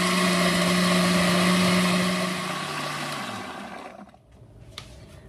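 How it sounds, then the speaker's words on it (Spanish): A kitchen blender grinds jalapeño chiles and green tomatoes, roaring loud and steady with a high motor whine that drops in pitch as it winds down and stops, followed by a few faint clinks. "los 3 chiles jalapeños y los tomates verdes. Ahora sí, a moler."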